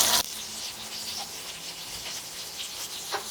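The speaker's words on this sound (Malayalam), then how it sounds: "എണ്ണ ചൂടായി, ഞാൻ മീൻ അതിലേക്ക് ഇടുകയാണ്." Fish hits hot oil on a tawa for meen pollichathu, a sudden loud sizzle that settles into a steady, close frying hiss with small pops and no talk.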